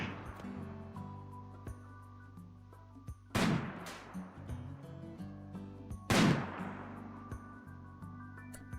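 Two sharp rifle shots ring out in a video game, spaced about three seconds apart, each a loud crack with a fading tail over a quiet ambient hum.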